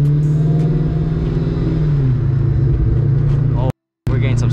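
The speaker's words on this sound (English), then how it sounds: "Oh, we're getting some sputter. I don't think it likes that." A Whipple-supercharged Ford Mustang Cobra engine rumbles loudly up close with an uneven, sputtering idle and a brief revving swell, broken by a short dropout near the end.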